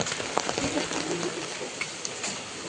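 The first monsoon rain falls steadily in a Konkan village, a dense, even hiss of drops on surfaces, with a faint bird call and soft voices underneath.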